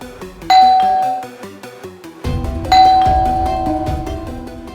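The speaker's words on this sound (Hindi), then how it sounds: "अभी थोड़ी देर में आपकी डोरबेल बजेगी।" Two-tone ding-dong doorbell chimes ringing twice in a home, each ring sustained and ringing out, loud and clear with no talking.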